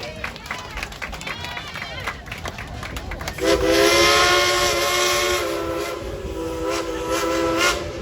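The steam whistle of Klondike Katie, a Dollywood steam train, sounds a loud sustained multi-tone blast after a few seconds of chuffing and crowd noise, holding for several seconds with a slight swell near the end.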